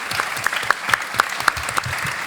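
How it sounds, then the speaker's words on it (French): Audience applause at a summer gathering, a steady wash of clapping hands with sharper individual claps popping out, fairly close and full, with no voices over it. "Vous pouvez les applaudir."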